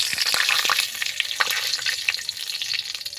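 Whole cinnamon, mace, cloves, cardamom and bay leaves sizzle in hot oil, a steady bright crackle with scattered pops and a stir or two, close and loud.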